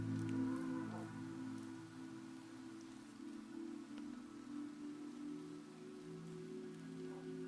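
Soft rain falls steadily outdoors near a house, a faint, even patter under a constant low hum, with a few scattered drops standing out.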